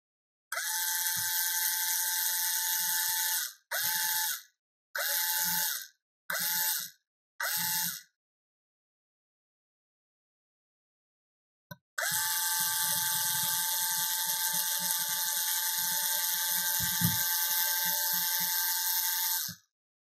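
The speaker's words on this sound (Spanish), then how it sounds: "Voy a apuntar los dos tornillos. Vale, y vamos a atornillar." An electric screwdriver drives screws while a digital peephole is mounted on a door, a close high-pitched motor whine in several short bursts, then a pause, then one long continuous run, with no voices.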